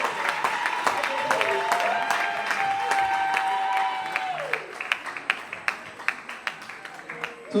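Audience applause at an awards evening, a broad wash of clapping under a sustained tone and music that thins into scattered individual claps toward the end.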